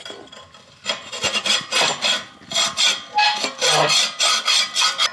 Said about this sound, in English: And then you take a file.